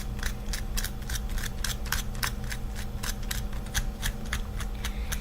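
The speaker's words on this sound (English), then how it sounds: "But as I run my fork across it," A fork scraping across hard pasta gives a rapid run of crisp, scratchy clicks under a steady low hum, close and fairly even throughout.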